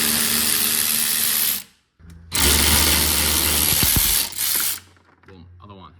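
A 15mm socket ratchet loosening a coilover bolt on an XR5 Turbo Focus ST225 gives loud, fast clicking bursts close up, with two short pauses between runs, and a voice speaks briefly at the end.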